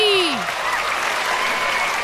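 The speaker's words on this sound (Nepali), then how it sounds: "ताली" An audience at a televised Nepali hip-hop competition breaks into steady, full applause, a dense wash of clapping heard from start to finish after a brief voice at the opening.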